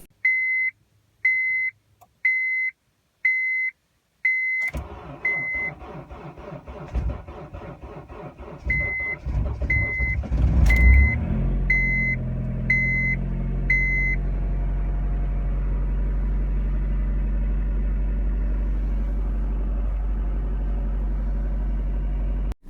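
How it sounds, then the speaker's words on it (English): A 1.8 liter 4-cylinder Honda engine struggles to start in -55 degree Fahrenheit cold: a string of short dashboard chimes, then slow labored cranking that catches into a loud, steady, rough idle rumble, close by with no talk. "this engine starting or trying to start in -55 degree Fahrenheit weather"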